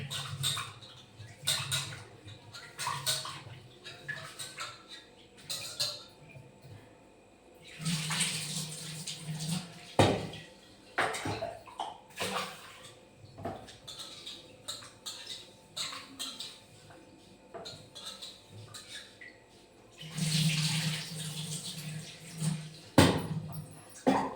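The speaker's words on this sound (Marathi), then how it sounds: "तांदूळ धुवून झाले आहे आपले" Water sloshing and pattering in a container as rice grains are swished and rubbed by hand, with occasional louder splashes and pours.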